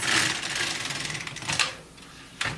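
An LK150 knitting machine carriage is pushed across a row of yarn, making a close, rapid, rattling swish that fades and then returns in a short burst at the end. No one speaks.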